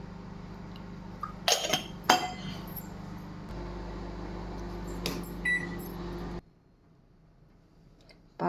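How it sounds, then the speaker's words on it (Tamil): A kitchen microwave oven heating milk hums steadily, with a couple of sharp glassy clinks early on, then falls quiet before a final click near the end. "பால் ரெடி, மைக்ரோவன் வச்சாச்சு"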